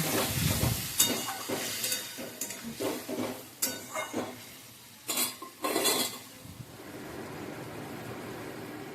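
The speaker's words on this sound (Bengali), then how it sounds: "এবার আমি ভাজা আলু পেঁপেগুলো মিশিয়ে দিলাম" A spoon scrapes and clanks against a pan in repeated bursts while fried potato and papaya are stirred into gravy, with a soft sizzle underneath that settles toward the end.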